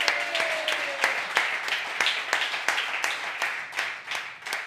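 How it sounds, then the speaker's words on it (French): Audience clapping for a storyteller on a French comedy show, a moderate, steady patter of applause with a faint voice briefly audible at the start. "applaudissons Francis pour son histoire."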